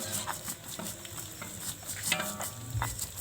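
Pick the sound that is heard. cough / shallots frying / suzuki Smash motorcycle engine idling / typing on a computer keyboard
shallots frying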